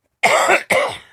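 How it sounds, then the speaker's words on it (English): Two quick, harsh coughs in a row, close and fairly loud, the second a bit shorter than the first. "I still have a little bit of a cough still after all this time."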